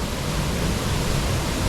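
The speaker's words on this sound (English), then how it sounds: "This is just a small waterfall." A small forest waterfall at Castle Forest in Kenya, a steady, dense broadband rush of falling water sounding close and continuous throughout, with no voices over it.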